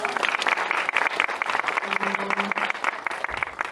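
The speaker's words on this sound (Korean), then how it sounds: "박수 한번 다시 부탁드리고요" An audience claps at a Korean film screening Q&A, dense steady applause filling the room throughout, with a brief voice tone partway through.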